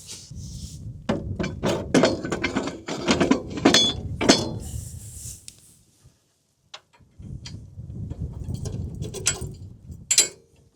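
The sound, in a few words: adjusting density mechanism on round baler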